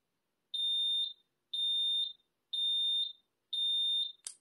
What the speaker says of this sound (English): Sorry for the house alarm, you guys.